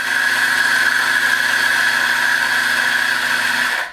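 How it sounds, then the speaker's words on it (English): A Mazzer Super Jolly espresso grinder grinds coffee beans on a medium setting, a loud, steady motor whine with a buzzing hum that holds evenly for several seconds, then cuts off abruptly at the end. "so grinding on a medium setting now"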